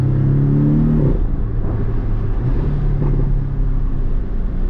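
A 2018 Porsche 718 Cayman S with a flat-four turbo engine droning steadily in slow traffic, giving a low rumbling hum with a pitch dip around the first second and then a level, close, continuous tone.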